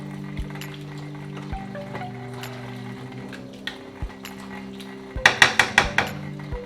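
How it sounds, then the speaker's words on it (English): A spoon stirs a green lentil cottage pie filling in a pot: soft scrapes under a low steady hum, then a quick run of sharp metallic clinks against the pot near the end. "Give it a stir."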